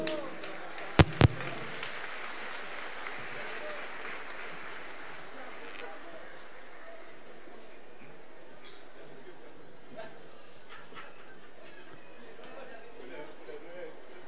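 After two sharp knocks, a school folk-dance gala audience breaks into dense applause for the music group that thins out within a few seconds, leaving a quiet hall murmur.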